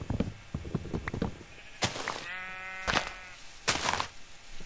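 Minecraft sheep bleat several times, wavering nasal calls repeated at intervals over faint clicking game sounds, fairly close and clear.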